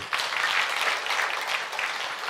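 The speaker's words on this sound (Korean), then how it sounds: "박수 한번." A church congregation at a Sunday worship service applauds its orchestra of violin and flutes, with dense, sustained clapping from many hands filling the room at a steady level.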